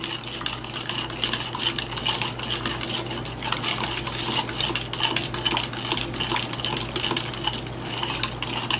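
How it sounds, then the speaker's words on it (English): A spoon scrapes and clinks steadily against a metal pot as food is stirred, a close, continuous busy clatter with faint liquid sloshing and no talk. "Get this all stirred up."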